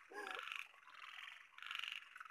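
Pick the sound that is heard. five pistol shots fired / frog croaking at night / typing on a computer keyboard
frog croaking at night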